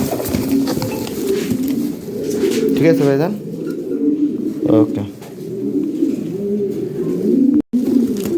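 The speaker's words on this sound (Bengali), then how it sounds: "এই ভাই কবুতর পাঠিয়ে দিতেছি।" Pigeons, a male and a female, coo in low throaty bursts near the start and midway through while people nearby keep talking over a busy background.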